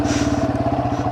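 A Yamaha TW200 motorcycle engine while riding, giving a steady, close, loud thumping single-cylinder putter with a rapid, even pulse and no talking.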